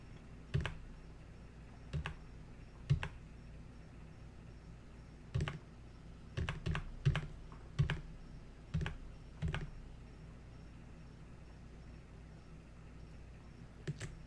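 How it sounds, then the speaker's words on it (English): Keys on a computer keyboard are pressed in a sparse, irregular run of crisp clicks, some single and some in quick clusters, over a quiet room background with no talking. "I'm using Control Z on the keyboard to back up."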